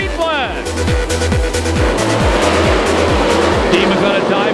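USAC/CRA sprint cars racing at Perris Auto Speedway, loud engines revving and shifting in rapid repeated surges as a pack passes, with an announcer talking over the continuous roar.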